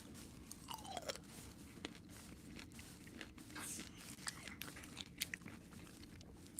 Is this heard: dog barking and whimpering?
no